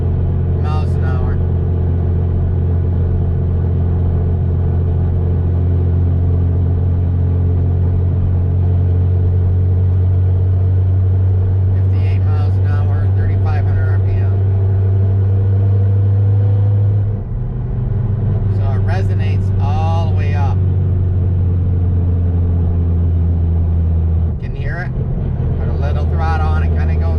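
Inside a car cruising in 4th gear near 3,200 rpm at about 55 mph, a loud steady low engine drone with a strong vibrating hum carries on while someone talks over it.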